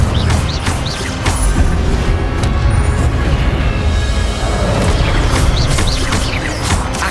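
Fire spell cast during Hogwarts Legacy gameplay, a loud sustained roaring, crackling blast with repeated booming impacts and whooshes filling the whole stretch, no speech over it.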